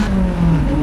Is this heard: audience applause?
no